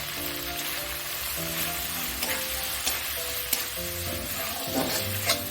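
Spices with coriander and cumin powder fry in oil for a live prawn curry, giving a steady close sizzle broken by light scraping taps of a stirring spoon, with a faint tonal hum underneath.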